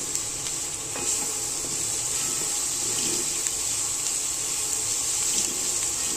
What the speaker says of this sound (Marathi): साखर पण याच्यामध्ये फ्राय होईल चांगली